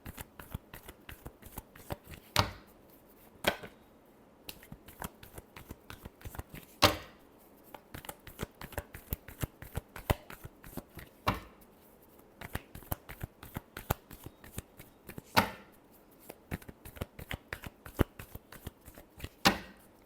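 Tarot cards being shuffled by hand in repeated riffling bursts with sharp slaps and flicks, close and crisp, with no voices.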